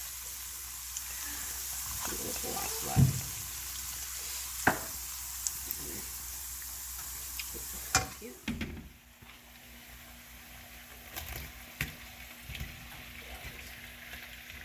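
Beans sizzle and fry in a pan on a home stove, with steady hiss and occasional clinks of stirring, and voices faintly around.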